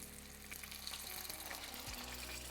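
Water splashed into a hot pan holding a Reuben sandwich of Montreal smoked meat, rye bread, kraut and gruyere, giving a steady close hiss and sizzle that lasts throughout, with no talking.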